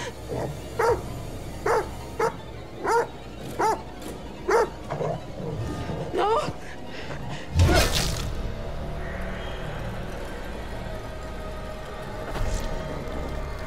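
A dog in The Devil In Me video game barks in a run of short, loud, evenly spaced yaps, followed by a sharp crash and then quieter game ambience.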